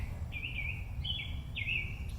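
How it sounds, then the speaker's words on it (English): Birds singing outdoors, three short clear chirping phrases repeated at a slight distance over a low steady background rumble, no voices. "Birds are singing."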